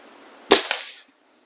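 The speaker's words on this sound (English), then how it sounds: "Omnistorm 22 caliber air rifle by Air Venturi" A single sharp shot from an Air Venturi Omnistorm .22 caliber air rifle, a Chinese-made variable-pressure gas gun, cracks loudly and close, followed by a brief ringing tail that fades to silence.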